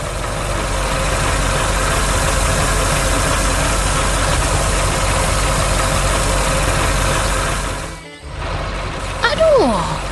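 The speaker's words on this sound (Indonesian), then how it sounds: "traktor biru sedang mengangkut trailer oranye di taman yang hijau dan penuh" A blue farm tractor pulling an orange trailer rumbles steadily and loudly, its engine running without a break for about eight seconds before a brief cut.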